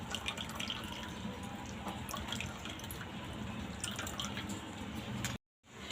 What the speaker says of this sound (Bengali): এবার চামচে করে আমি এটা টিপে জলটা ফেলে দেব।